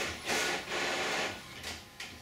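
An office printer runs in bursts, its broadband mechanical whir swelling and fading in several passes under a faint room background, with no voices heard.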